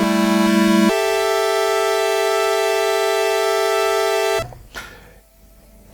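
A Kodamo Mask1 bitmask synthesizer holds a steady, rich harmonic tone with a brief change near the start, sustaining evenly for several seconds before cutting off abruptly into faint noise.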